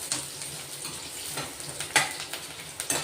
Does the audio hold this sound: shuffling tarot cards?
no